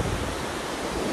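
Ocean waves wash onto Galgibaga beach in Goa, a continuous broad surf hiss with some wind rumble, close and steady with no voices.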